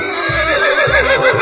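A horse in an animal basketball video game lets out a long, loud, quavering whinny, close and alone, with a faint rhythmic low pulse beneath.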